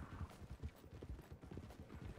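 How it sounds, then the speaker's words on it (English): A horse's hooves clip-clop in a steady, even walking rhythm on ground in the Western video game Red Dead Online. The sound is fairly close and moderately loud, with no talk over it. "ride a horse. It's not mine."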